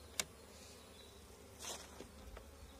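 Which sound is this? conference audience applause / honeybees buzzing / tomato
honeybees buzzing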